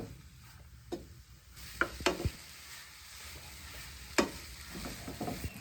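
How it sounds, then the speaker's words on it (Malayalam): Grated papaya sautés in a pan, a soft steady sizzle under a few sharp scrapes and taps of the spatula against the pan, heard close with no talk. "ഇനി ഇത് നമുക്കൊന്ന് വഴറ്റിയെടുക്കണം."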